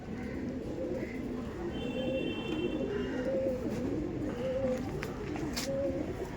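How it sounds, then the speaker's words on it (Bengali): Punjabi pigeons, male and female, coo in repeated soft rolling phrases, close by and fairly quiet, over a low steady background hum. "দেখুন এটা ফিমেল পায়রা আর এটা মেল পায়রা আছে"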